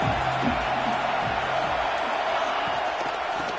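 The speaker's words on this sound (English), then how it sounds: "the crowd really getting into it" Football crowd at a third-down play in a video game matchup, Auburn against Alabama in a playoff semifinal, giving a steady, dense roar of cheering that holds at an even level throughout with no clear peaks.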